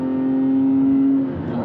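BMW M3 engine revving from inside the car, a rough, loud sustained tone that holds steady and then drops off slightly near the end.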